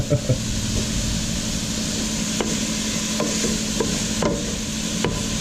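Steady crackling sizzle of food frying in a pan, close by, with occasional clicks of utensils against it.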